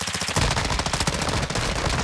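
Rapid automatic gunfire in the DMZ video game, a loud, close, continuous burst of machine-gun shots in quick steady rhythm throughout.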